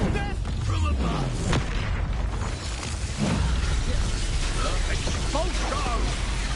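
Spell blasts from Expulso and Confringo in the game Hogwarts Legacy boom repeatedly amid rumbling combat noise, while a player's voice talks over the explosions.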